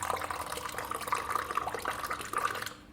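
Fruit enzyme liquid draining from the tap of an Ecobin composter, a steady close trickle of liquid running without pause for about three seconds.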